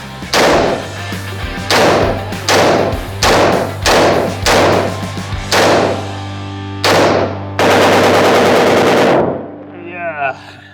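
A semi-automatic gun fired in a string of loud, close single shots, about eight booming reports at a steady pace, followed by a longer burst of noise and a faint rattle at the end.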